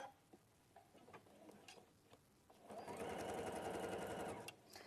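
A sewing machine stitches a quilt piece in a quiet room, a few faint taps giving way to a close, rapid rattling run of about two seconds that then stops.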